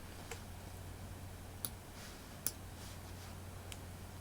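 A computer mouse clicks while resetting mixer faders in a music production session: a few sparse, faint clicks spaced irregularly over a low steady hum.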